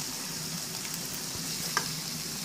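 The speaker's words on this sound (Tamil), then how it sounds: "இப்போ நம்ம தக்காளி நல்லா வதங்கி வந்துருச்சு" Tomatoes sautéing in oil in a pan for kothu parotta give a steady, broad sizzle and frying hiss throughout, with one brief clink partway, and no voices.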